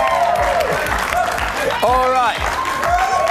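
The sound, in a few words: audience applause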